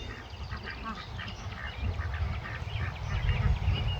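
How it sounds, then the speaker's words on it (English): Farm ducks quack repeatedly in an outdoor garden setting, a steady chorus of calls over low rumbling background noise, fairly close and growing a little louder toward the end. "Ducks."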